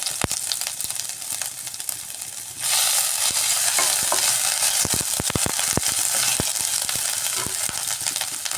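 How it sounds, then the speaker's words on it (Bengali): Chopped ginger and bay leaf dropped into hot oil with whole spices for a vegetarian kohlrabi and potato dish: a sudden loud sizzle bursts up and holds steady, broken by sharp scraping and stirring clicks from a utensil. "ফোড়নটা বাঁচা বাঁচা হয়ে গেছে এবার এর মধ্যে দিয়ে দিচ্ছি আদা কুচি তেজপাতা"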